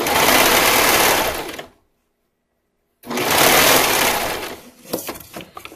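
A sewing machine stitches elastic onto swimwear fabric for a Sunflower swim top. It runs in two loud, steady bursts with a clean stop between them, and the second run trails off into uneven stitching.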